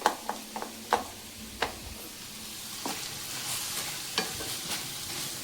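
Broccoli masala sizzles in a pan as a utensil stirs it, giving repeated sharp scrapes and taps that start quickly and then thin out over a continuous frying hiss.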